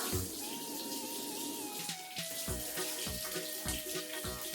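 Tap water running into a sink while a toothbrush is rinsed, a steady splashing stream with irregular knocks and clatters as the brush hits the basin, close and moderately loud.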